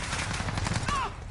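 Gunfire in the Call of Duty: Modern Warfare video game, with rapid automatic bursts of 5.7 ammunition crackling in quick succession, loud and close, before cutting off near the end.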